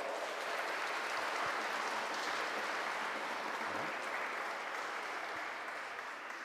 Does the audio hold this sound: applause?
yes